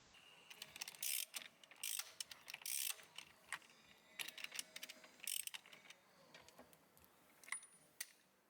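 Torque wrench ratcheting while replacing the clutch on a Honda NC750X motorcycle: quiet, close bursts of rapid metallic clicks in short repeated strokes with pauses between, no voices.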